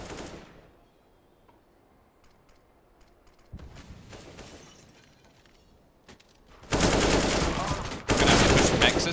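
Counter-Strike pistol gunfire during a competitive match on the map Train, bursts of rapid shots that start faint and sparse, then turn loud and dense near the end.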